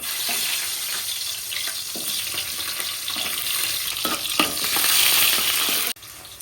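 Small onions sizzle and fry steadily in hot rice bran oil, a dense continuous crackle close by, with stirring scrapes and a brief clatter near the end; no voices.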